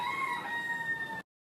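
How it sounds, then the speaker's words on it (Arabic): A giant Pakistani rooster crows at a central market in Medina, one long sustained close crow that cuts off abruptly. "هذا ما شاء الله الديك الباكستاني عملاق"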